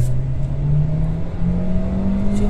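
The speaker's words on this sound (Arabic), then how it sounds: "رجع للنمرة رقم 1 وحدة اوتوماتيك لين وقفت السيارة" A Kia Forte car with an automatic gearbox accelerating from inside, its engine giving a loud, steady droning hum whose pitch climbs gradually and then drops slightly as a gear shifts, with no talking.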